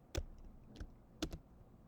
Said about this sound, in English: press the Control, Command, and Space bar at the same time